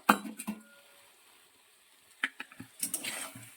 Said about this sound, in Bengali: তো এবার এই মটরশুঁটি গুলো দিয়ে দেবো।